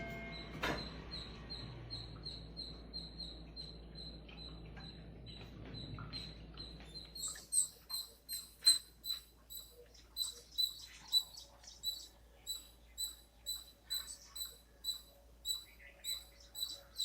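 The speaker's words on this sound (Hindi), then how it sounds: "बहुत सारी चिड़िया की आवाजें आती रहती है" Rapid high-pitched chirps repeat in a steady rhythm, growing busier partway through, with softer twittering and a faint low hum underneath.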